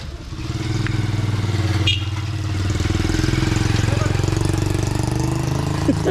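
A motorcycle engine idles nearby with a steady low rumble and regular throb, while people talk over it in a rainy everyday setting.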